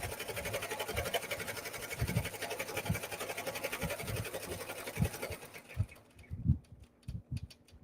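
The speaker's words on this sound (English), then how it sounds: "this is embroidering at 900 stitches per minute" An embroidery machine stitching a bag strap at 900 stitches per minute gives a fast, even mechanical rattle with regular thumping beats, close and steady, then slows to a few scattered clicks and knocks.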